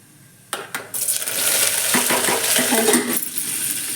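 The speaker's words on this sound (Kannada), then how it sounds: "ಜಿಗಿ ಸಾಸಿವೆ ಎಲ್ಲ ಚಟಪಟ ಅನ್ನಕತ್ತೇವು ನೋಡ್ರಿ" Cumin and mustard seeds spluttering in hot oil, starting with a few sharp pops as the seeds hit, then swelling into a loud, continuous crackling sizzle close by.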